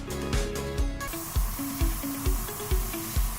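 An airbrush sprays paint in a steady close hiss, while a separate low mechanical thump pulses at a regular beat beneath it.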